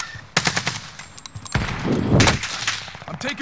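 Gunfire in Call of Duty: Modern Warfare, with loud bursts of automatic weapon fire, rapid rattling volleys and heavy shots that come close and hard, one long burst in the middle.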